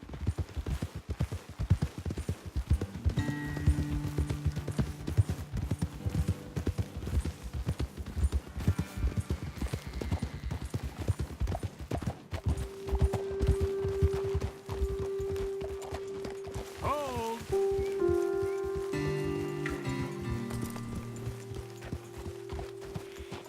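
Horse hooves clip-clop steadily and close while riding in Red Dead Redemption 2, a continuous rhythmic trotting with tonal game music swelling underneath.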